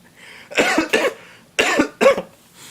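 Two pairs of sharp, close coughs from one person, each double burst separated by a short pause, loud and alone against a quiet background during a live stream.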